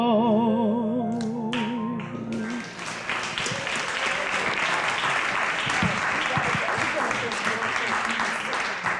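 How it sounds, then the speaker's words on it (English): A closing sustained musical note gives way to loud, sustained audience applause at a 50th birthday celebration, dense clapping continuing steadily to the end. "Give her another round of applause."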